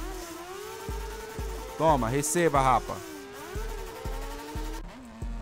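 A motocross motorcycle engine in MX Bikes, buzzing and revving with sharp rising pitch sweeps and rapid repeated throttle blips, loud and close, while someone talks over it.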